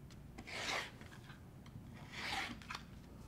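Quilt fabric pieces are trimmed with two quiet rasping cuts, each about half a second long and separated by a short pause, close up and otherwise alone.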